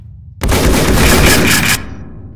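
Gunfire from weapons in the video game People Playground, one loud continuous burst of rapid shots lasting just over a second, close and alone, then a short fading tail.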